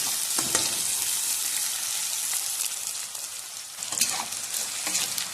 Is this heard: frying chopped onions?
yes